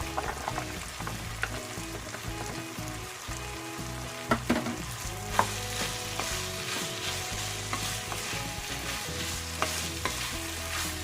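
Carrots and potatoes stirred into beef giniling with tomato sauce in a pan, a steady sizzle under repeated scraping strokes of a spoon, with a few sharper clacks against the pan, close and continuous.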